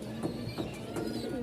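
Pigeons at a market coo softly in a few short repeated bursts, faint and close, with no talk.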